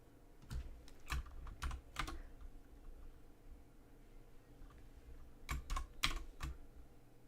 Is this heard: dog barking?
no